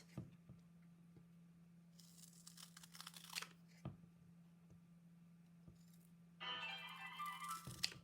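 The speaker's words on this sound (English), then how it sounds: "I've got some big scissors here, I'll use those, it'll make it easier." Big scissors slice through white card in short bursts, strips cut in quick crisp snips with brief pauses between, close and fairly quiet in a still room.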